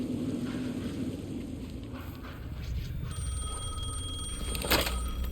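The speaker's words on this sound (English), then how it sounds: "The phone again." A telephone rings in the video game Alan Wake 2, its steady electronic tones rising over a dark, rumbling ambient background and growing more distinct in the second half.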